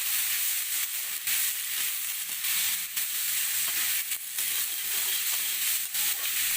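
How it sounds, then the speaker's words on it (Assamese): Pointed gourd fries in oil in a home kitchen, giving off a steady hissing sizzle with occasional stirring scrapes and no talk. "সেইখিনি পচলাখিনি ধুনীয়াকৈ ভাজি ল'ব, তেল অলপ বেছি দিব।"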